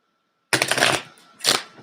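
Playing cards are riffled in a quick, close, loud burst of fluttering snaps, then a second shorter flick follows as cards are tossed down.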